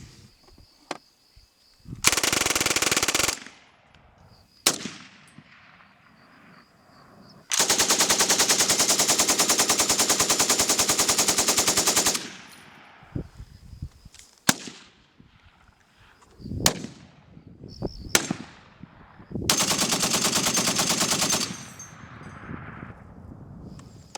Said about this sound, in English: this is going to be a 12-gauge shotgun